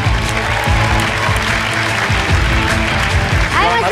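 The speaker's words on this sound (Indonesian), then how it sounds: "akan kita kasih tepuk tangan paling meriah untuk Denny Darko." Audience applause for a magician's entrance at a televised show, steady full clapping throughout with low music or crowd rumble underneath and a brief voice near the end.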